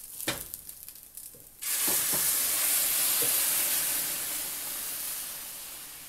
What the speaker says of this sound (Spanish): Vean, aquí vamos a agregar la salsa.